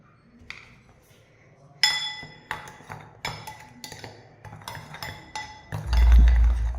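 A spoon clinks repeatedly against a bowl while curry leaf paste is mixed with powder, a series of sharp, bright taps at an uneven rhythm, fairly close.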